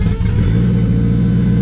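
A car engine rumbles steadily, close and loud, as the vehicle sets off for a short drive, with a low, continuous drone and slight revving throughout.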